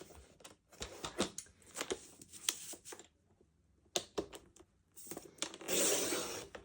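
Patterned paper for a birthday card is cut with a trimmer, giving close, sharp snips and scraping strokes in short bursts separated by quiet gaps, with a longer rasping swipe near the end.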